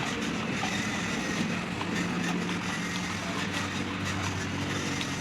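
A remote-controlled toy tractor pulls a trolley loaded with about 10 kg, giving a continuous rattling, whirring rumble that stays fairly steady and close, with no talking.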